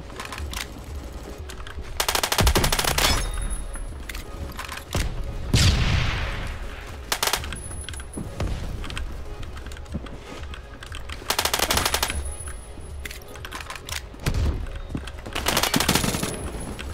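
Bursts of G36 rifle fire in the video game Phantom Forces, loud and close, in several rapid volleys with short pauses between them, plus scattered single shots and distant gunfire.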